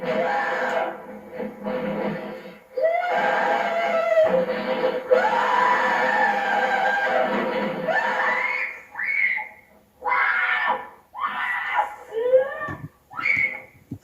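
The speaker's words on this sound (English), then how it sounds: "Second is a young girl, 5 years old, screaming at night very loudly" A five-year-old girl screams loudly at night during a night terror, in long, wailing, strained cries that break into shorter sobbing shrieks toward the end, close to the listener and with no other talk.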